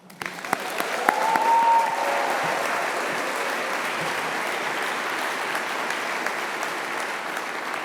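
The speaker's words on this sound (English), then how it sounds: "let's make a big cheer for all of them, please" A graduation ceremony audience applauds and cheers, a sustained wash of clapping from a large crowd that swells quickly and then holds steady.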